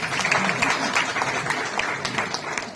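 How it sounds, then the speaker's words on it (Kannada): Dense applause from an audience at a Children's Day book release event, steady and sustained throughout with crowd noise mixed in. "ಹೋದಾದ್ರೆ ಚಪ್ಪಾಳೆ ಹೊಡೆಯಿರಿ"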